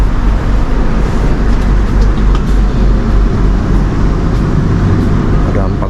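A Whoosh feeder train rolling toward Padalarang station, heard from inside as a loud, steady low rumble with rattling carriage noise throughout.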